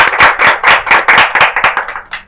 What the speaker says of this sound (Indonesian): Tepuk tangan buat Teh Vina Yuliani.